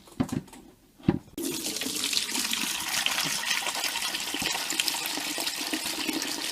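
Rinse water gushes from a Carpigiani 141 ice cream machine into a bucket, a steady splashing pour that starts after a couple of soft knocks and continues evenly to the end.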